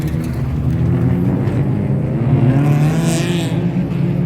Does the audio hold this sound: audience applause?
no